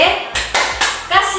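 Hand claps for the Indonesian 'tepuk wow' clapping game, several sharp claps in an uneven rhythm, close and fairly loud, with a group setting around them.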